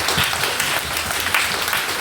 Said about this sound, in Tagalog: Sige po, papuring palakpak para sa ating Diyos.